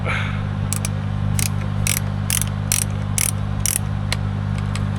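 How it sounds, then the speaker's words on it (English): A ratchet tightens a chain during tree work, with about eight sharp metallic clicks in an uneven rhythm, close by over a steady low engine-like hum. "let's tighten that chain up."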